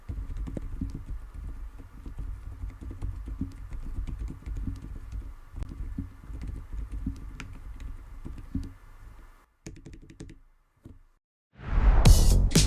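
Soft, muffled keystrokes on low-noise switches in an EVO75 keyboard tap in a quick, steady rhythm, very quiet and dull, stopping briefly before a louder burst at the end.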